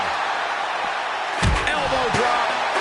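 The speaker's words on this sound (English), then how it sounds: "Elbow drop." An elbow drop lands with a sharp, heavy slam midway through a WWE wrestling video game ambulance match on PS5, set against steady crowd-like background noise.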